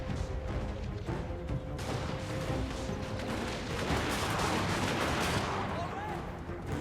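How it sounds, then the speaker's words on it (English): Massed musket volleys crackle across a Total War: Warhammer battlefield, dense overlapping reports rolling continuously under a steady wash of battle noise, with a faint voice partly buried beneath. "Plenty of lovely accurate shots there."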